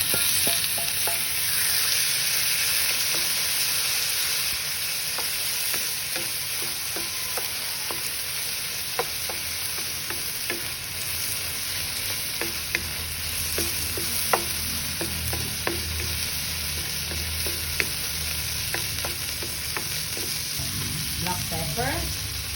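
Corned beef fries with garlic and onions in a pan, a constant close sizzle broken by repeated scraping and clacking taps of a utensil stirring and turning the meat.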